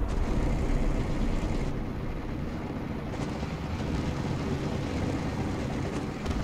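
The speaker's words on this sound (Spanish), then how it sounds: "helicóptero." A helicopter in the tank combat game War Thunder gives a dense, continuous engine and rotor roar that stays loud and steady throughout, with no speech.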